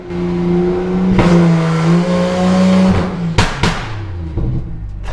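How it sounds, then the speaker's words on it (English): A BMW 535i engine idles roughly and rumbles in neutral, then a few sharp, loud anti-lag pops and bangs crack out near the end, close by. "we're gonna see if the anti-lag will engage"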